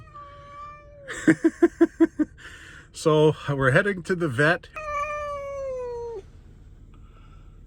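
A cat in a carrier meows loudly and insistently, a rapid series of short cries followed by longer drawn-out wails, close by, with a person briefly speaking between them.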